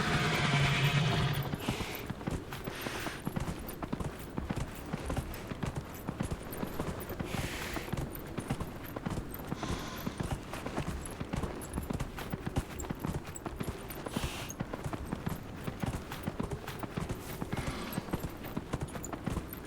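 Horse hooves clip-clop steadily and evenly through Dragon Age: Inquisition, a fantasy role-playing game, as the mount moves along at a constant gait, moderately close and fairly quiet, with almost no talk.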